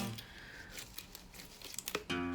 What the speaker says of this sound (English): just using my scissors, cutting around the edges